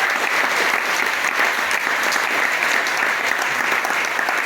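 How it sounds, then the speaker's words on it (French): A church congregation at a Sunday worship service applauds, a loud, continuous and dense roar of clapping from many hands that keeps an even level from start to finish. "Est-ce que tu peux acclamer le Seigneur?"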